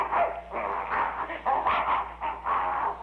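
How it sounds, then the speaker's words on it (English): Dog barking sound effect from a 1940s-style radio drama, a run of repeated close barks and yips in a steady irregular rhythm over a constant low hum, with no talk. "there's that mad dog Adolf"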